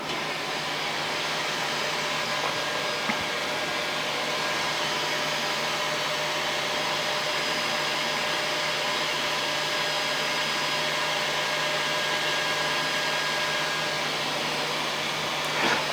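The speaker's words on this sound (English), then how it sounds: "the fan inside, which is a main cooling fan for the whole entire build plate, is a little loud" Steady, continuous whir of the main cooling fan inside a Bambu Lab X1 Carbon 3D printer, a constant broadband hum with a faint tonal whine, close and unchanging.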